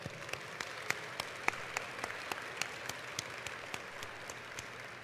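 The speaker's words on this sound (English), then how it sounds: "we're going to give a really quick round of applause for all of those who aren't with us today" An audience at a 2012 welcoming address gives a brief round of applause, sparse distinct claps in an uneven patter, faint and somewhat distant in a large room.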